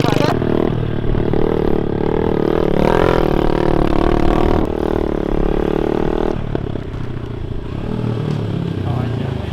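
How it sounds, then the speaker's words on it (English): A dirt bike engine drones and revs close by as it is ridden, a loud continuous buzzing that shifts pitch, with people's voices and clattering mixed in. "I can't ride a dirt bike."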